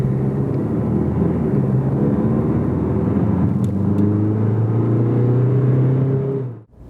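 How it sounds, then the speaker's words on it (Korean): A 2019 DS3 Crossback diesel car accelerates in normal mode, its engine note steady and droning from inside the cabin, rising gradually in pitch with tire and road hum beneath before cutting off abruptly; no talking. "노멀 때 가속 소리고요"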